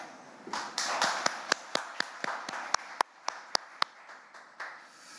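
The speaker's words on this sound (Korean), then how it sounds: "고생하신 여러분께 서로 박수 한번 크게 치면서 시작하시죠" Journalists at a press briefing with the National Assembly speaker clap together in sparse, uneven bursts, with sharp individual claps standing out over a soft room murmur.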